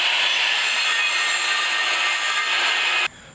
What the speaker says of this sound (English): as the blade started to heat up, it started to melt the material and the blade started to bind up